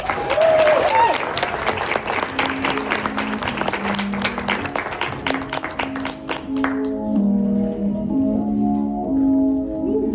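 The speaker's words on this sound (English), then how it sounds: "Let's give him a big round of applause, guys." A seminar audience gives a big round of applause, loud, dense clapping for several seconds that thins out and fades as walk-on music with a steady tonal melody rises and continues alone.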